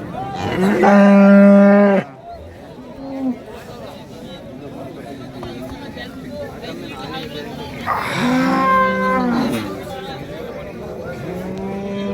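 Two loud, drawn-out cow moos close by at a cattle market, separated by a stretch of background murmur and activity.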